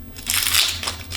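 A knife slices through the top of an onion on a cutting board, giving a short, crisp crunching crackle heard up close without any voices.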